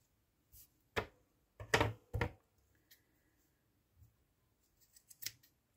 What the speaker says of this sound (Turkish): Yuvarlak düzgün bir pompon elde edinceye dek kesiyorum.